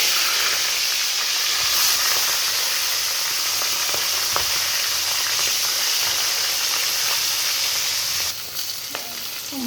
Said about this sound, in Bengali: তেলটা গরম হয়ে গেছে, মাছের মাথাগুলো দিয়ে দেব।